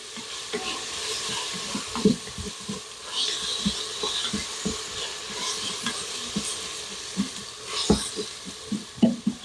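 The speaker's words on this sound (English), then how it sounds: "You want to stir that in." Seasoning for a Mississippi roast being stirred in an Instant Pot over beef fond, a spoon scraping and tapping in irregular bursts under a steady low sizzle, close and moderately loud.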